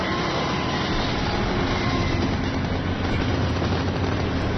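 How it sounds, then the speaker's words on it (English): A subway train rumbles steadily in the background, a dense, unbroken low roar that holds at an even loudness with no voices over it. "And there's a subway, apparently."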